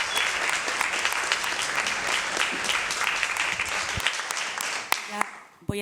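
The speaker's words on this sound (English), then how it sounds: "Big round of applause for everyone involved in the film," Sustained audience applause fills a press conference for the film Sultana's Dream, a dense steady wash of clapping that thins and dies away near the end.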